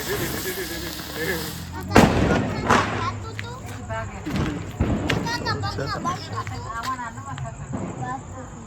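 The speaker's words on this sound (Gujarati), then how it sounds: "બધા અલગ અલગ બધા ફટાકડા ફોડે છે" Firecrackers burst during a village Diwali celebration, one sharp loud bang followed by scattered crackling pops and fizzing, with people chatting nearby.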